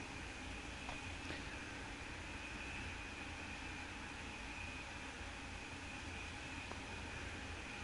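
A train runs in the Train Sim World 2 video game, a faint, steady rumble and hiss of wheels and motor with a few light clicks. The sound is continuous and even, with no talking over it.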